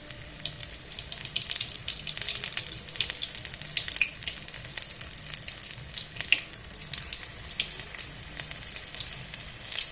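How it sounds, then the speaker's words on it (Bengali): Cauliflower pakoras fry in hot oil, giving a steady, soft sizzle with fine crackling throughout and a couple of faint pops. "এগুলো কিন্তু হালকা একটু ভাজতে নিয়েছি ফুলকপিগুলো"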